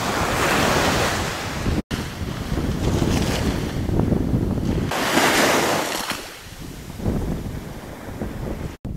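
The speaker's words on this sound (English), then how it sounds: "now, just a bit windy" Strong wind buffets the microphone on the coast of Adak Island, Alaska, with surf roaring beneath in loud, surging gusts and two brief cutouts.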